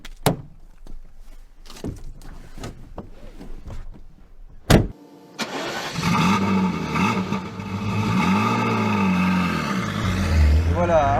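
Ferrari F40, the 1980s supercar, with a few door thunks and clicks before its engine fires up and settles into a loud, rich, sustained roar that swells and revs near the cabin.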